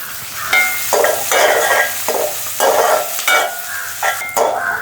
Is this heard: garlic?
yes